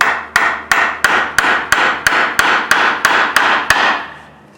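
A Factor 55 flat link on a 2x4 is struck with a hammer in about a dozen sharp, evenly spaced blows, each ringing briefly, close and loud, then fading to quiet.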